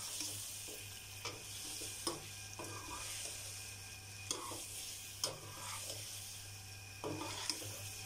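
Ground masala mixture is stirred in a karahi, a steady scraping of a spoon against the metal pan with soft sizzling and intermittent clacks, close and moderately quiet, with no talking.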